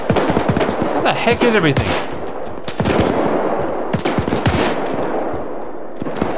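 Heavy gunfire in an Arma 3 WWII battle for Berlin, dense bursts of machine-gun and rifle shots cracking close and loud, with someone talking over the shooting.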